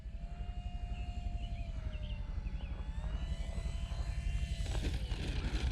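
Avios Grand Tundra RC airplane in flight, its electric motor whining steadily at a distance with shifting pitch as the throttle is cranked up, a faint continuous buzz over outdoor background noise.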